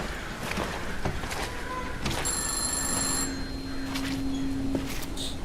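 An electronic phone rings in a video game, a steady chiming tone against a dim ambient backdrop, with a few faint clicks and thumps around it.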